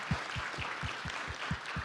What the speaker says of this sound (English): Let's give Ms. Miles a hand clap